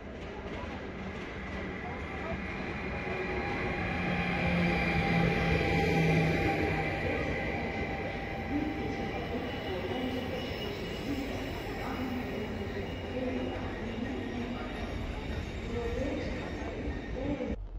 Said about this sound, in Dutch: dit is de trein richting Hengelo en richting Heus